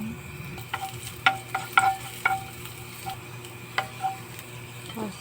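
Garlic sizzles in olive oil in a pan, giving a low steady frying hiss punctuated by several sharp clicks and taps of a utensil against the pan, close up and without talk.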